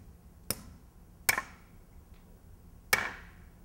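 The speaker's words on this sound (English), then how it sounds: "place the anchor through the fixture and into the hole, tapping as needed to make sure the threads are below the surface of the base material" A hammer taps a steel wedge anchor through a fixture into a drilled hole. Three sharp, close metallic knocks come at uneven intervals over a quiet background.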